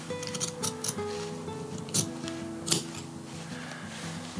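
Small scissors snip loose thread ends while mending a patch on a pair of pants, giving a few quiet, close, crisp clicks spaced irregularly over a soft background.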